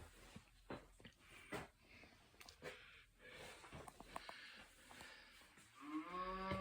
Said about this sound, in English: can hear the cows